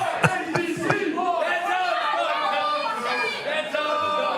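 A hometown wrestling crowd yells and chants for Danny Darko against Neil Diamond Cutter, with loud overlapping shouts, a few sharp claps early, and a sustained noisy roar of voices throughout.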